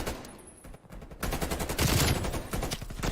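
Rapid bursts of gunfire from a turret in a competitive esports video game match, loud and dense, swelling midway and continuing steadily to the end with no talk.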